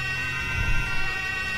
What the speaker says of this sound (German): Jetzt machen wir auch mal die doppelten Sirene an hier.